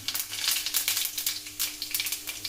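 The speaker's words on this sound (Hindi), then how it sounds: "अब हमारा तेल गरम हो गया है। अब मैं पहले इसमें जीरा डाल दूंगी" Cumin seeds sizzle and crackle in hot oil in a pan for a pahadi ras bhaat dish, a steady close frying hiss with small popping bursts throughout, no voices.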